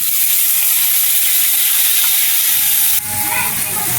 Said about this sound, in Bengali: এখন এই তেলে মাছটা ভেজে নিব